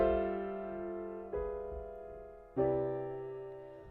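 Three sustained piano chords, each struck clearly and left to ring, with the outer notes held while the inner voices shift between chords; soft and close, with nothing else playing.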